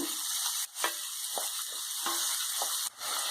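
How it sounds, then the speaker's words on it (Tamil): Onions sautéing in hot oil in a pan for Tamil-style chicken fry (varuval), a steady bright sizzle broken by a few brief stirring scrapes and short pauses, close and continuous. "வெங்காயத்தை லைட்டா வதக்கிக்கோங்க."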